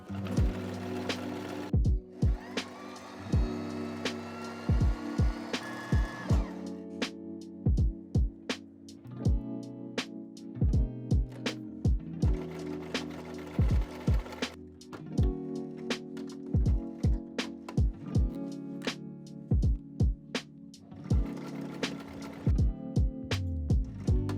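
Sewing machine mending with thick thread, running in several bursts of rapid mechanical clatter and ticking, pausing briefly between runs, close and steady throughout with no voices.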